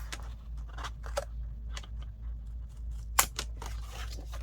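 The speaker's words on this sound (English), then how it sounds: "And we will cut that off." Scissors cut through paper scraps in a series of close, crisp snips with a sharp louder cut near the end, over a low steady hum.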